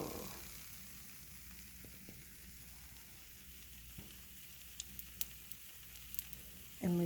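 A pancake fries in hot grease in a pan, giving a soft, continuous sizzle with scattered small crackles and pops. A brief louder clink lands right at the end.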